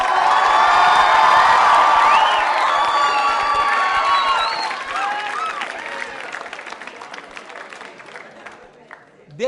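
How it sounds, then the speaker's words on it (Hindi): A school audience claps and cheers loudly for a quiz contestant, with children shouting and whooping over thick applause that gradually fades into scattered claps. "तालियां जोरों से बजाइए रिया के लिए"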